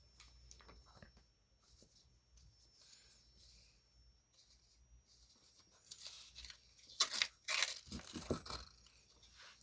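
A paper coin roll wrapper is torn open, bringing a few sharp crisp rips and crinkles near the end after a quiet stretch of faint handling noise, close to the listener.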